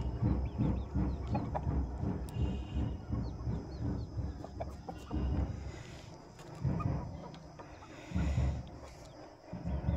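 A 10-month-old rooster weighing around 2.5 to 3 kg clucks repeatedly at close range, a rhythmic series of throaty calls with brief pauses and other faint bird sounds in the background.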